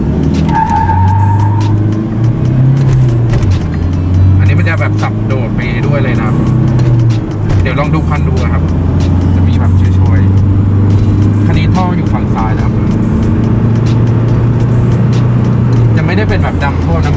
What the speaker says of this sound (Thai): อย่างตอนนี้ผมยกคันเร่งนะแล้วก็เติมคันเร่ง